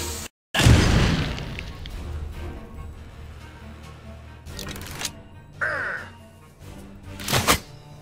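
A bomb goes off in The Dungeon of Naheulbeuk video game, a loud booming blast followed by trailing game effects and a few shorter thuds and pops.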